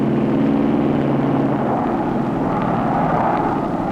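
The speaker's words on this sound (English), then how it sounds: "The engines strain mightily to lift the aircraft over the onrushing peak" Engines of a fish-stocking aircraft strain hard as the plane climbs over a mountain peak, a loud, steady, continuous drone with no break.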